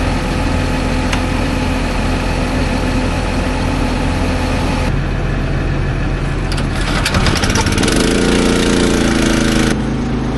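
Beside a Hagie STS12 sprayer on a farm, a 3-inch pump engine runs loud and steady throughout, with a continuous mechanical drone and some clanking and rattling near the end.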